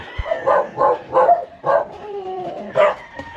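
A dog being fed gives a run of about six short, close yips and barks in quick rhythm, with whimpering tones between them.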